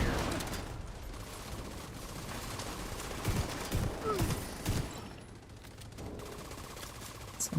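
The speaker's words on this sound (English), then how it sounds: "Grenade launcher." A grenade launcher fires in a video game, a few heavy, low thumps clustered together midway through against a steady bed of game ambience.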